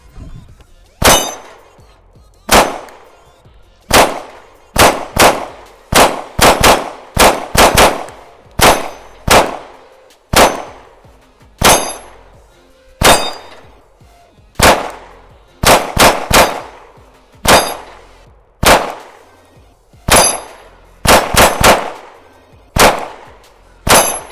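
Pistol shots from a Glock 48 fed SIG 365 V-Crown hollow points ring out sharp and loud at an outdoor range, fired in rapid pairs and short strings with brief pauses, each crack followed by a metallic ring.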